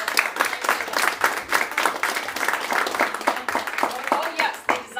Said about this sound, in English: They did great, though. Round of applause.